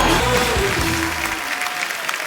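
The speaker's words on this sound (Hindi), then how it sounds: "जोरदार तालियां एक बार मिस्टर महेश मांजरेकर और मेधा मांजरेकर जी के लिए" Studio audience applause welcoming actor-director Mahesh Manjrekar and actress Medha Manjrekar on a comedy talk show: a dense burst of clapping that fades slightly, with a deep music sting underneath at the start.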